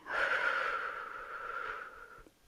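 A single long, steady exhale during a beginner leg and thigh toning exercise, breathy and close, lasting about two seconds before tailing off.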